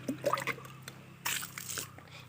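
Water-diluted liquid is poured out, starting with a few soft drips and squishy sounds, then a short splashing pour about halfway through, heard close and fairly quiet.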